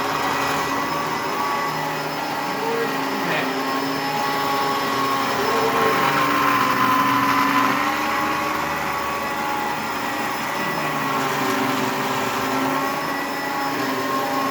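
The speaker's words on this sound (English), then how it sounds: "I got to tilt my vacuum cleaner back a little bit." An upright vacuum cleaner runs while cleaning a stair landing, a loud steady motor drone with a high whine that swells slightly as it is tilted back and pushed across, continuous with no talking.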